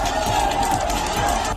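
Protest crowd chanting slogans during a street procession in Kanpur, a dense continuous roar of many voices with rhythmic shouted bursts, loud and close throughout.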